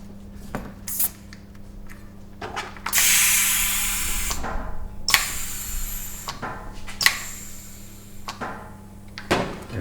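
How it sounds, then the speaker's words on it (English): A bicycle tubular tire being pumped up to riding pressure with a hand pump, giving repeated mechanical strokes and squeaks of the pump spread irregularly through the clip, fairly close, with a steady low hum underneath and no talk. "So now we go ahead and pump it up to our favorite riding pressure."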